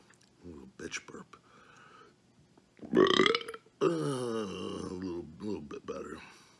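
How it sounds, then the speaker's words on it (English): A man burps loudly several times after eating a Wendy's Triple Baconator burger, the long belches following brief murmured speech. "Do I have to burp?"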